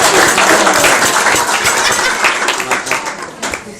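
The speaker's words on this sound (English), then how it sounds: "So another round of applause" Wedding guests applauding during the speeches, a dense roomful of clapping that holds strong and then gradually thins and fades toward the end.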